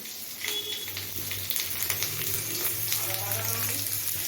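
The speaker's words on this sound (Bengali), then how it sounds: "জিরে ফোড়ন দিচ্ছি এর মধ্যে দিয়ে দেবো পেঁয়াজ" Cumin seeds sizzle steadily as they are tempered in hot oil in a pan, with a constant close crackling hiss and no talking.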